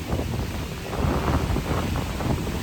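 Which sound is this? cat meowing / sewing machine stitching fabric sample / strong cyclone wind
strong cyclone wind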